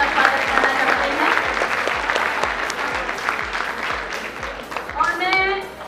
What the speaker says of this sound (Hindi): तो सिरसा की बेटी के लिए एक बार हम जोरदार तालियों से उनका स्वागत करना चाहते हैं।